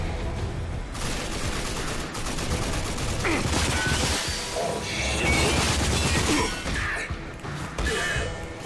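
Dense, continuous barrage of explosions and gunfire in the video game Rage, loud and chaotic throughout with booms and crashes layered on top of each other.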